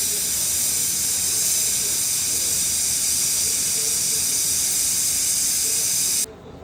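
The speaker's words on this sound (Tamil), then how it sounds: "விசில் நல்லா வந்துடுச்சு." A pressure cooker whistle releases steam while pulao rice cooks, a loud, steady hiss that runs for about six seconds without a break and then stops abruptly.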